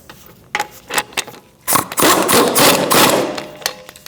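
A power tool snugs a rear leaf spring bolt on a 2006-2011 Chevrolet HHR: a few short, sharp mechanical bursts, then a loud sustained whirring run with rattling pulses, close up.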